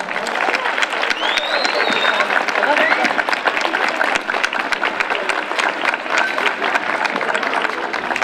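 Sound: audience applause

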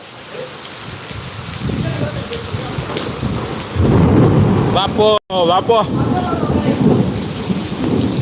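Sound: thunderstorm with rain and thunder

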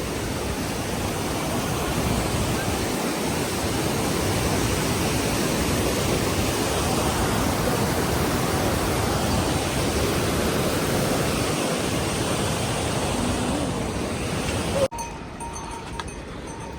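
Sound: fast-flowing mountain stream on Hemkunt Sahib trek

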